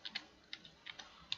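Keys on a computer keyboard are tapped in a short, irregular burst of about eight crisp clicks, close and quiet, with no talking.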